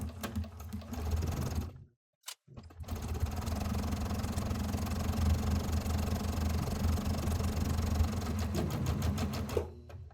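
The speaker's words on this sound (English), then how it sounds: "I'm going to take this to my sewing machine and I'm going to stitch it" Sewing machine stitching a quilt triangle pair with a scant quarter-inch seam, a continuous close whirring motor with rapid needle clatter, a brief stop and restart near two seconds, then steady running until it halts near the end.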